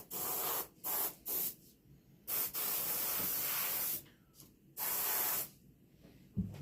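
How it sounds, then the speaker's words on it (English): Base coat sealer is sprayed in short and longer aerosol bursts onto the feet of a mounted piebald deer, with close hissing puffs separated by quiet gaps. "a little bit of base coat sealer on his feet looks pretty good"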